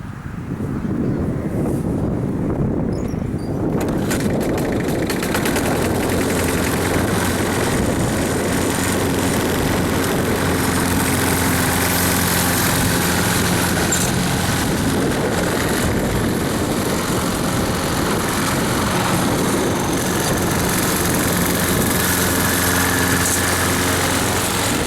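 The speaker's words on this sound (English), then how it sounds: "we now have a working lawnmower" A lawnmower engine runs steadily after an ignition coil replacement, a loud, continuous idling drone with wind buffeting the microphone, starting up in the first few seconds and holding for the rest.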